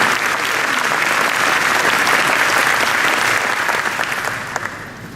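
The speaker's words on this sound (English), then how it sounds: "Can we have a round of applause for the Global High School from Africa?" Dense, loud applause from an awards ceremony audience fills the whole stretch steadily, with many hands clapping together before tapering slightly at the end.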